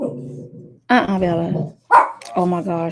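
Several dogs barking in short bursts indoors, close and loud, interleaved with a voice speaking.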